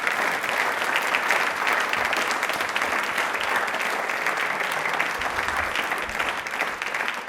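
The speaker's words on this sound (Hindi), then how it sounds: "तालियां एक बार जोरदार बजा दीजिए." An audience at a Rajasthan television quiz show breaks into strong, sustained applause, a dense wash of clapping that stays loud and even throughout.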